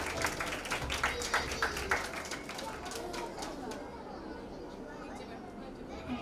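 An audience claps to welcome a Sunday school teacher at a kids' convention, with several loud claps early on that thin out into faint scattered clapping and murmuring voices.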